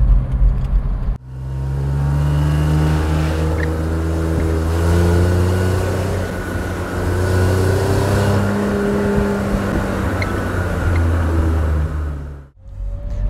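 A BMW E30 320i Touring is heard from inside the cabin as it drives through corners, its engine droning and rising and falling in pitch with throttle and gear changes, steady and loud without talk.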